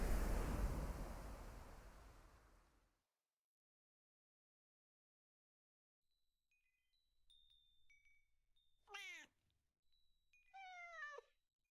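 Cats meow in a video game, two clear rising-and-falling cries near the end after a loud rushing wash and a quiet stretch, with faint chirps in between.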